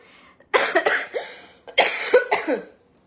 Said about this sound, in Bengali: একবার শুরু হলে কাশি থামতে চায় না